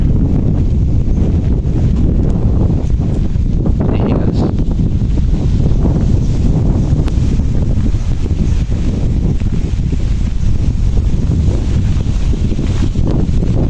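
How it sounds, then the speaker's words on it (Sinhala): Steady wind buffets the microphone outdoors at a kilo guava plantation, a constant low rumbling roar that fills the whole stretch with no pauses. "දැනෙන සුළඟ නම් ගතට දැනෙන සිසිලසන කියලා නිම කරන්න බෑ ඉතින්"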